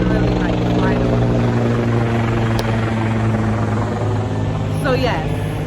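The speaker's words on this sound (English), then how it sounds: "Literally a helicopter flying over me." A helicopter flies low overhead in New York City, its loud, steady rotor drone filling the whole stretch while a person talks over it.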